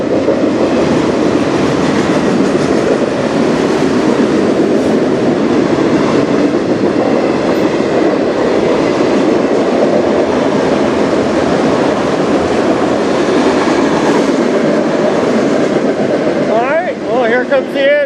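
Freight train rolling past on the Strathroy Subdivision, a loud, steady rumble of railcars with rhythmic wheel clatter throughout, ending with the last cars and a brief squeal as the train goes by.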